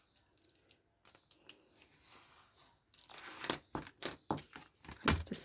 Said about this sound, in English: I'm just going to trim that a little bit.